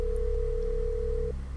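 In the horror video game The Stalked, a telephone gives a single steady electronic tone lasting just over a second. A low background hum runs beneath it and no one speaks.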